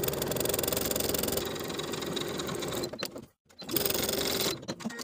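A home sewing machine topstitches a shirt collar with a 1/4 inch seam allowance, running in a steady, close whirring burst, pausing briefly at a pivot, then resuming.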